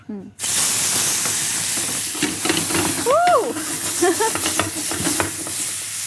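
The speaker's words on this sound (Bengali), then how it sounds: "জাস্ট হচ্ছে গরম তেলের মধ্যে চিকেনটাকে দিয়ে দিতে হবে।" Chicken pieces dropped into hot oil, with a loud steady sizzle that starts abruptly and continues throughout, a few stirring clinks and scrapes, and voices talking over it.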